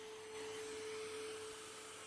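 AQUA VIVA 2 dust mite vacuum cleaner running steadily, a continuous broadband motor whine and airflow rush with a sustained tone, fairly quiet and with no voices over it.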